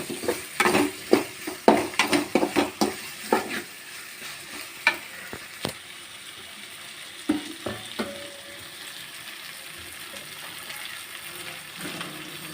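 Onions cooking in a pan for egg rice, with clattery stirring scrapes and sizzle bursts over the first few seconds, then quieter sizzling with occasional utensil knocks near the end.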